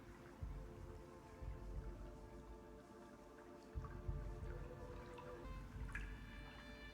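Soft, irregular watery drips and trickles from the Hollow Knight video game, faint and steady against a low tonal ambient hum, with a few brighter plinks near the end.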